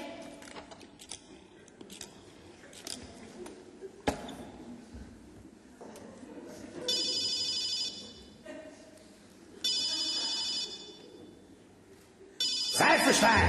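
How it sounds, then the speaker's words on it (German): A telephone rings repeatedly on a comedy show spoof of a quiz game, as the phone-a-friend lifeline is called, with several loud bursts of ringing between stretches of talk and background noise. "Seifenstein, ruf uns den Telefonjoker an"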